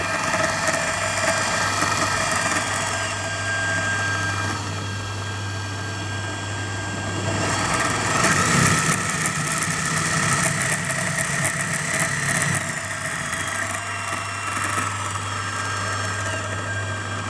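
Variable-speed DC permanent magnet motor driving a lawnmower belt on an Emco Unimat 4 mill, a steady mid-pitched motor hum with constant whine, running continuously near and fairly loud with slight swells in level.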